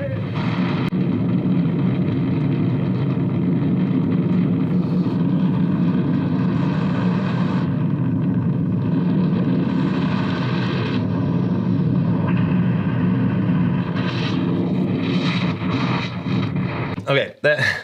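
Small airplane in flight buffeting near a stall, a loud continuous engine and airframe roar with wavering rumble that drops away abruptly at the very end.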